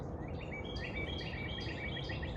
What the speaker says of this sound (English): Them birds sound so good down there.